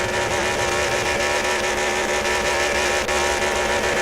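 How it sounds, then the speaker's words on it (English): A car's engine roars at a burnout competition, a loud, sustained high-revving drone holding steady across the whole stretch with no talk. "You can hear him getting the engine started"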